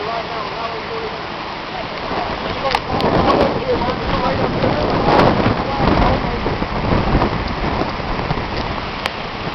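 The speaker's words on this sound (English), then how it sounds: "We're seeing the rain going across the highway right now." Heavy rain sweeping across a highway during a tornado-producing storm, a loud steady wash of downpour with gusty swells; people talk over it.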